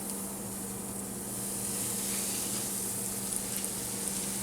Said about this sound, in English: I'm gonna roll in that and fry it up